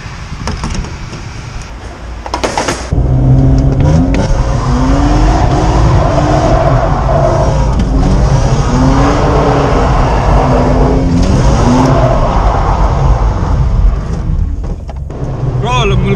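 A car engine low on fuel runs loudly and steadily after a short rough start, with voices talking over the constant drone.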